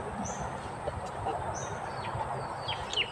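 Chickens cluck and call softly over a steady outdoor background hum, with a few faint chirps scattered through.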